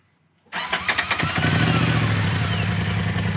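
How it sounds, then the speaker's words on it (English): A UTV engine cranks briefly after a moment of quiet, catches and fires up, then settles into a loud, steady idle close by. "I'll fire up the machine real quick"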